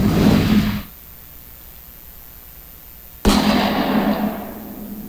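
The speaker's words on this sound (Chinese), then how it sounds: "再切一下恐怖武器的声音" Two horror-style weapon sound effects from a stock library play about three seconds apart. Each is a sudden, loud blast with a long decaying tail, and silence falls between them.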